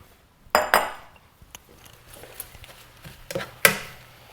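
Collard greens being stirred in a cooking pot, with a few sharp utensil clinks and scrapes against the pot spaced across a mostly quiet stretch and one louder clank near the end.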